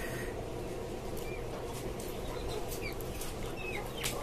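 Native chickens in a cage-system farm make faint clucks and chirps against a constant noisy barn background, without anyone speaking.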